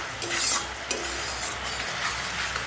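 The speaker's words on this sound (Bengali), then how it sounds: "এবার মশলাটাকে আমি ভালো করে কষিয়ে নেব" Spice paste being sautéed in a pan, with a spoon stirring and scraping against the metal over a soft continuous sizzle, a few sharper clinks standing out.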